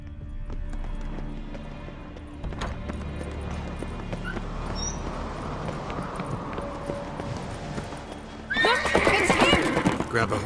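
A horse in The Witcher 3 whinnies sharply near the end, with hooves clopping and bits of game ambience and sound effects before it.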